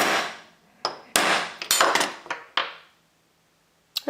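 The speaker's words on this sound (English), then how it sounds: "Hammering with the left hand." A hammer taps small gun trigger parts into place, several sharp metallic strikes of varying loudness spread irregularly, then a pause and one final tap.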